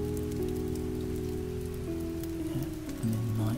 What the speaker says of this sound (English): Because it's raining outside, it'll be a bit grim in the morning.